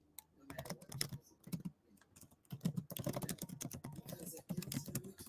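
Fingers typing on a laptop keyboard produce rapid, irregular clusters of close, crisp key clicks with brief pauses between bursts, fairly quiet overall; no speech.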